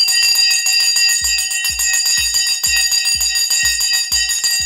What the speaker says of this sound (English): The bell has now gone.